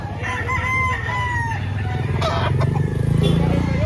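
Chickens and roosters at a poultry market in Lipa, Batangas, with repeated nearby crowing and clucking over a busy background of traffic and engine noise, while people talk.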